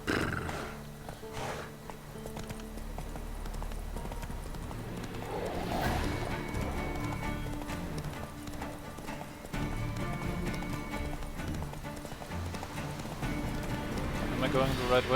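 Hooves of Roach, a horse in The Witcher 3, pounding in a steady clip-clop gallop, with a whinny near the start. Someone talks over the hoofbeats.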